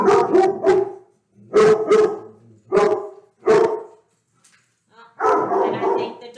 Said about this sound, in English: had to tell the dogs to stop barking